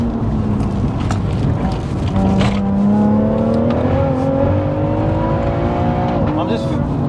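A 730bhp big-turbo BMW M140i with Tarox brakes pulls hard on a wet road, its engine note climbing steadily as the revs rise, loud and close inside the car, with talk over it.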